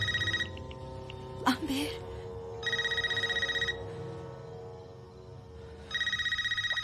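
A home telephone in a Scream 5 scene rings in repeated electronic bursts, about three separate rings with pauses between them, clear and close, while a voice speaks briefly in one of the gaps.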